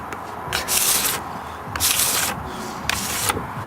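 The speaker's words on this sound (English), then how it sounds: "you would like to wax the board like this" Wax is rubbed onto a snowboard base in three bursts of coarse, close scrubbing strokes, each lasting about half a second to a second, with brief quieter gaps between them and no talking.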